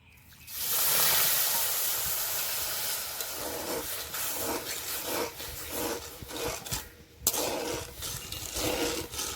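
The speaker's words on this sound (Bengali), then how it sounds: "যে দুই বাটি এক বাটি জল দিয়ে দেবো" Water is poured into a hot cooking pan for a sweet, sour and spicy raw mango pickle, setting off a loud hiss of steam followed by bubbling, rhythmic scraping of a spatula.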